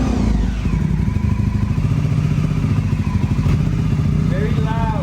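An abandoned, cheaply bought motorcycle's engine runs steadily with a loud, clattering idle while its idle is adjusted, throbbing continuously and close up with no letup.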